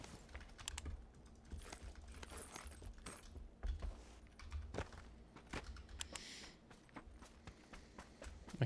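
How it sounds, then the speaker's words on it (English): Fast typing on a loud new computer keyboard during a PUBG game session, irregular bursts of crisp clacking keystrokes close to the microphone over a faint low background hum. "I'm trying a new keyboard and it's kind of loud"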